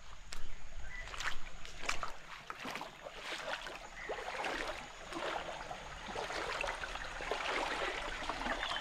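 Forest stream water runs through a channel fed by springs in rural Konkan, its flow easing off. It makes a continuous light rushing and sloshing at low level, fairly distant, with scattered small splashes and no talking.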